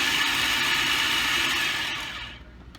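A food processor whirs loudly as it pulses chopped vegetables for a crock pot pasta sauce, running as one steady high-pitched burst before spinning down and cutting off near the end.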